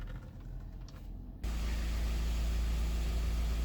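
Kia Sportage engine starting up and then idling, a low steady rumble coming in abruptly partway through and holding evenly after that.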